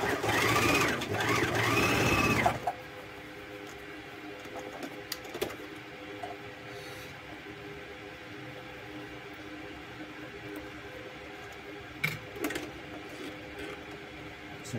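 A Janome 8002D overlock sewing machine stitching in a short loud burst at the start, followed by quieter handling and a few small clicks and taps.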